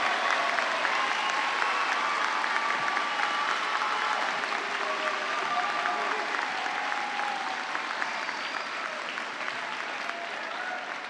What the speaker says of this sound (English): Let's have a round of applause for our 2022 doctoral and master's degree graduates from West